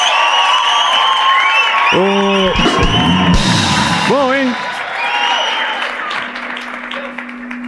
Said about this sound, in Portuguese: salva de palmas pro Celso Portiolli!